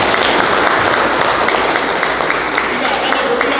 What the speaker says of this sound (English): So give a round of applause for all of our speakers